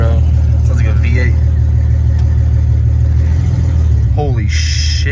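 Car engine fitted with ISR longtube open headers revs hard and loud, a deep throaty roar that swells and falls over a steady rumble, with people talking over it.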